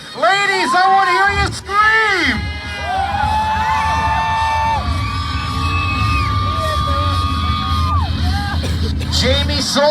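A monster truck show crowd in Aiken, South Carolina, dominated by women screaming and whooping, with loud sustained shrieks and yells layered over a continuous roar of cheering that stays dense for the whole stretch.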